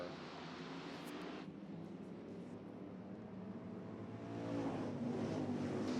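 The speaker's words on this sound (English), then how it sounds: "They thunder down into turn number 1 as Bradley dives to the inside." Hobby stock race cars roaring around an oval track at Eagle Raceway, a pack of engines droning at a distance and swelling louder as they pass, with no talk over it.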